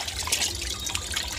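Tap water runs over chicken being rinsed in a sink, a soft continuous splashing and trickling at moderate distance, fairly quiet throughout.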